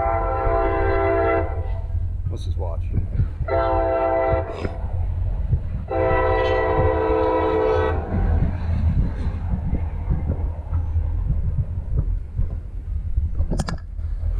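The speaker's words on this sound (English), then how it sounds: "we got the train coming" A loud train horn sounds in several long blasts, with the rumble of the passing train continuing throughout and a brief spoken remark near the start.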